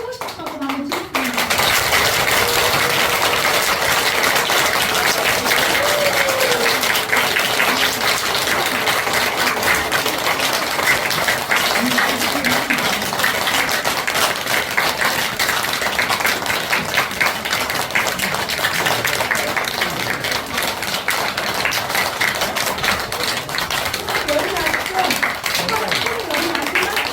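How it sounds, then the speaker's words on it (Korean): Audience at a Buddhist dharma gathering clapping hands in a fast, continuous rhythm for a long stretch, loud and close, with a voice speaking briefly at the start. "우리 여기 같이 와 계신 도반님들이 박수를 치고 싶다고 한번 치겠습니다."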